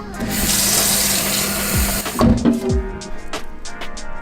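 Water pours steadily from a tap into a container for a protein shake, a bright continuous rush that cuts off partway, followed by scattered clinks and handling noises.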